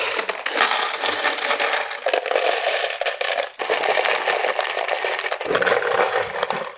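Handfuls of metal fasteners, six different styles, rattle and clink as they are dropped into a CRAFTSMAN TradeStack Pro tool case. Loud, dense jangling comes in bursts with brief breaks between them, and no one speaks.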